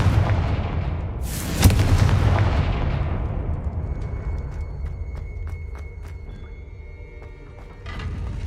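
In Hogwarts Legacy, a Confringo fire spell bursts with a sharp, loud blast and a long rumbling tail that slowly fades, followed by faint ringing game effects and tones.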